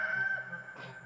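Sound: rooster crowing hoarsely

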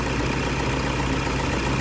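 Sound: car engine idling steadily

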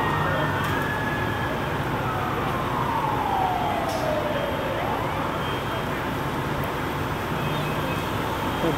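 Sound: fire engine siren

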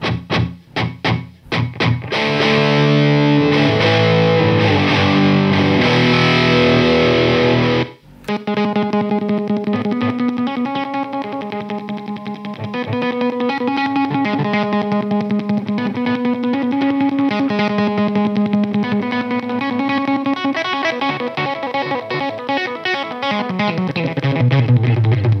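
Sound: quick intense guitar delay from Boss delay pedal

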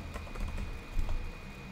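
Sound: typing on a computer keyboard

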